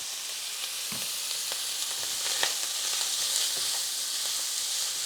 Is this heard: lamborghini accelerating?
no